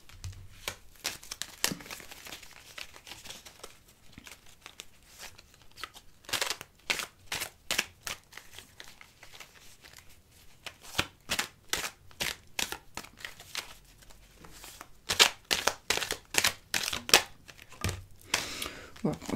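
Small oracle cards are shuffled by hand, giving a run of quiet, irregular papery flicks and riffles that come in bursts, close to the ear.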